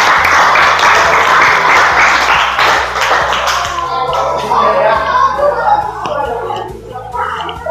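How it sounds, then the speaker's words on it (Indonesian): A school class claps for a classmate after a math test result, a dense burst of close, loud hand clapping that thins out into scattered claps with children's voices talking. "Give applause please"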